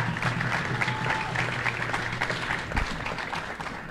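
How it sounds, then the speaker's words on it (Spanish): Audience applause at a Miss Edomex 2020 beauty pageant, steady dense clapping throughout, moderately loud and continuous. "así que un fuerte aplauso"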